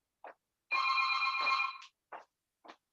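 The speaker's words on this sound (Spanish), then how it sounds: "voy a apagar el teléfono." A telephone rings indoors during a lecture, one long electronic trill followed by several short chirps in an otherwise quiet room.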